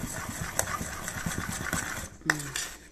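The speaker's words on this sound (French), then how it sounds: "Je mélange, c'est le plâtre." Plaster being mixed for mosaic work: a tool scrapes and clinks in a rhythmic stirring pattern against a container, moderately close, with a brief sharper knock near the end.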